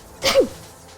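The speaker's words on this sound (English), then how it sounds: "I just sneeze again." A single sharp sneeze bursts out close to the mic, briefly and alone, then fades into a quiet room.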